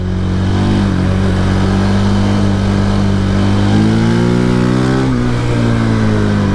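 KTM quad engine revving loudly and close, holding a steady drone that climbs in pitch partway through, then eases and rises again while cornering left.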